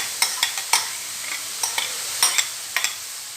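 Vegetables and chicken, seasoned with green onion, salt, black pepper and chilli sauce, are stirred in a pan in a series of sharp, irregular scraping strokes over a steady sizzle, close and fairly loud.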